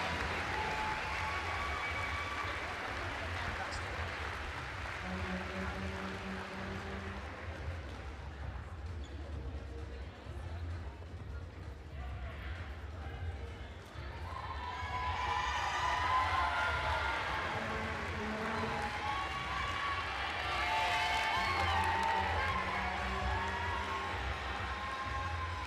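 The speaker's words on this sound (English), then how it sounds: "Everyone, please, a big round of applause for our volleyball national champion first team All-Stars." Applause and cheering for the national champion volleyball All-Star team at a CCAA women's volleyball championship in a gym, a fairly faint crowd roar that swells midway, with a voice on a PA.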